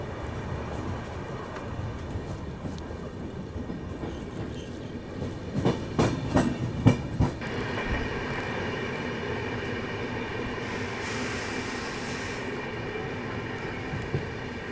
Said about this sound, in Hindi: जैसे ये देखो, ये ABR का WDG 4D लोकोमोटिव